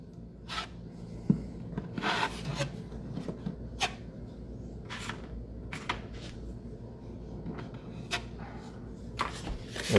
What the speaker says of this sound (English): you would need to put some drywall compound on there